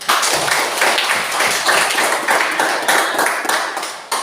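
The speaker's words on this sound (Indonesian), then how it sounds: "Kita tepuk tangan." A classroom of students clapping their hands together in a fast, rhythmic series of close, loud claps that continue steadily without talk.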